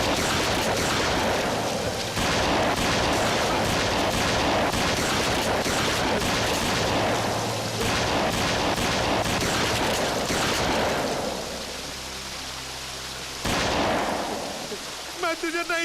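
Rapid bursts of movie gunfire crackle through a tense forest action scene, dense and loud for most of the stretch, then thinning to a few isolated shots near the end with shouting voices mixed in.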